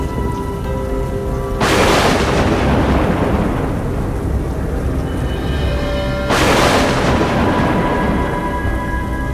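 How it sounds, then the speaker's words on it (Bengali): Steady heavy rain throughout, broken by two loud thunderclaps about five seconds apart, each a sudden crack rolling off into a long rumble. "এমন সময় প্রচণ্ড জোরে বজ্রপাত হলো"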